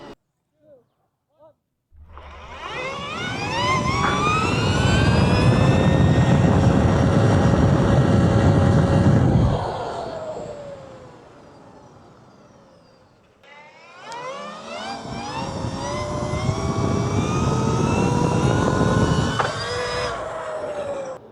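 A Sur-Ron Light Bee 2 electric dirt bike makes two hard acceleration runs at top speed. Its motor whine climbs steadily in pitch with strong wind rush, loud and close, and drops off briefly between the two pulls.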